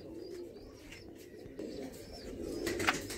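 Punjabi kabootar pigeons at an ustad's loft coo softly and continuously at close range, with a slightly louder burst near the end and a faint flutter of wings.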